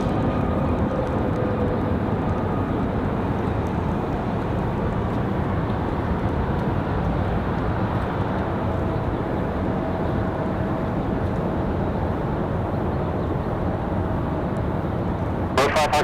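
Southwest Airlines plane departing Raleigh-Durham International, a steady broadband jet roar that holds loud and even throughout, like engines spooling on the runway, ending with a brief clicking burst.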